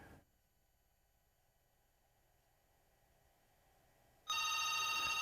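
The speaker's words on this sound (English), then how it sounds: "so now you hear that ringing" After several seconds of faint hiss, a landline telephone on a Bluetooth gateway starts ringing abruptly from a smartphone call, a loud steady electronic ring that continues to the end.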